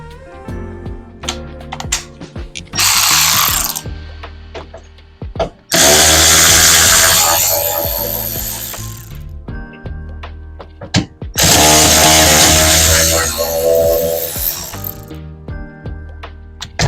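A ratchet fitted with a T30 socket works bolts loose on a 2013 Mazda MX-5 Grand Touring PRHT, with rapid clicking ratchet bursts alternating with longer spells of fast spinning and light metallic handling, loud and close.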